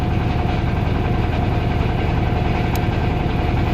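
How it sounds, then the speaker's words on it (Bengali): A trawler boat's engine chugs steadily on the Meghna river, a close, loud, continuous diesel throb with fast even knocking and no voices. "আমাদের ট্রলারটি সামনের দিকে চলছে।"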